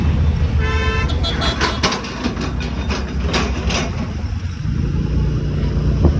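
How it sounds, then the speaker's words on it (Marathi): Busy road traffic on a street under construction, with a sustained car horn blast early on and engine rumble throughout, beneath a person talking. "बघू शकता गाड्या, ट्रॉफिक लागतंय."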